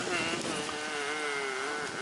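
Dense, steady buzzing of many bees swarming around a large beehive that has been in a tree for a long time, close and continuous throughout, with a droning tone that wavers slightly.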